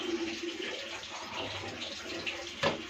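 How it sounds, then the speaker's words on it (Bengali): A pot of lentils (dal) bubbling at a steady boil, giving a continuous soft watery rush with one brief sharper knock near the end; no voices. "এখন খুব সুন্দর ফুটতেছে।"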